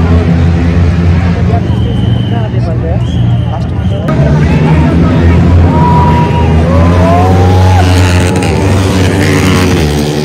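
Modified motorcycles race around a dirt track in Pokhara, their engines droning and whining with rising and falling pitch as they pass, loud and close beneath a noisy crowd and people talking throughout.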